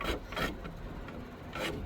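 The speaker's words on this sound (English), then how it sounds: "I still have a very deep indentation here with a lip from this file" A hand file rasps across a wooden bow handle in a few close, loud strokes, each a coarse scraping burst separated by brief quieter pauses.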